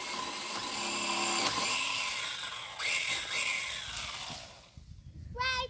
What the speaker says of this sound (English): got a new chainsaw